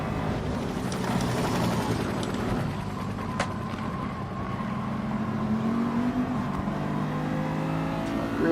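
Peugeot race car in Gran Turismo Sport accelerating hard at the Dragon Trail circuit, a steady loud engine drone rising in pitch through the gears, with tyre and track noise close throughout and no talk.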